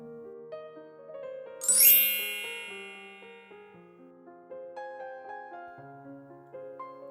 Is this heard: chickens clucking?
no